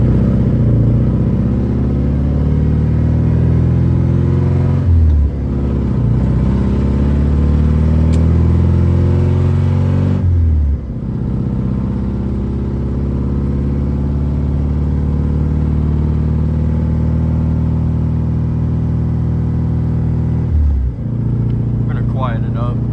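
A BMW E36's engine revs up and down in a low, steady drone through a gear downshift, with short dips in level where the revs fall between gears, close and loud. A person speaks over it throughout.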